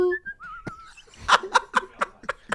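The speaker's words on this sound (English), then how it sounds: "That's his best effort to whistle." A man tries to whistle, producing a few thin, wavering tones before dissolving into a burst of rhythmic laughter from nearby voices in a lively podcast studio.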